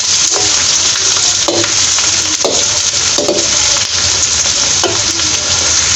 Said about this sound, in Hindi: हम इसको साथ ही शामिल करके इसको फ्राई करेंगे हल्का सा।